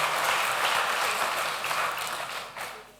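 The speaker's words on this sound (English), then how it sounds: "they deserve a round of applause as well" An audience at an entrepreneurship and networking conference claps for the organizing team, a brief dense round of applause fading toward the end.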